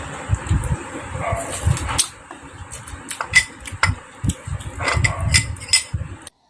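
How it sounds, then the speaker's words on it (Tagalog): Several neighbourhood dogs bark in quick bursts, fairly close, along with clinking dishes and kitchen clatter. "Habang nag-ingay ang aso ng kapitbahay"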